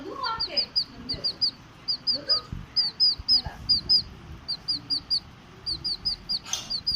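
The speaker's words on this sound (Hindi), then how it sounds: "ये देखो हमारा चूजा कैसे बोल रहा है" A young chick chirps in repeated quick high peeping calls, close and steady throughout, with someone talking under the chirps.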